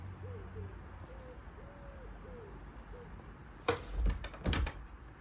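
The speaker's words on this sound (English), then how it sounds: "I'll just close the door." A wooden shed door, built from recycled gazebo parts and scrap wood, is pulled shut with a couple of close, heavy thuds and a rattle, while an owl hoots softly in the background.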